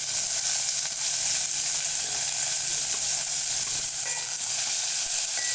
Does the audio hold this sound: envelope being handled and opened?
no